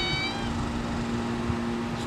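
Pet cat meowing outdoors, a drawn-out, plaintive call, clear and close, heard over a steady background hum.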